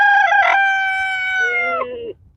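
A single loud, close rooster crow, one long drawn-out call that trails off at the end.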